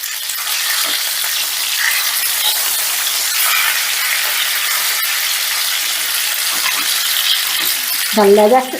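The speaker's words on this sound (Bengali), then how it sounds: "এবার একটু সময় নিয়ে এটাকে উল্টে পাল্টে বেশ লাল লাল করে ভেজে নিচ্ছি" Pieces of rohu fish fry in hot oil for a kalia, a steady bright sizzle with small spatters and stirring scrapes, ending in a brief louder clatter as the fish is turned.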